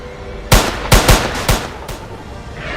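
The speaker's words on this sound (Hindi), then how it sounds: "अबे फायरिंग कर दी।" Gunfire erupts during a monster fight between a Skullcrawler and an Indominus rex, with about five sharp, loud shots in quick irregular bursts over a low background rumble.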